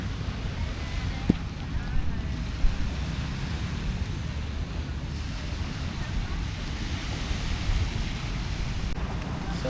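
Sea waves on a beach in Pattaya, Thailand, form a continuous low surf wash, heavily buffeted by wind rumbling across the microphone, with a few soft knocks and no clear talk.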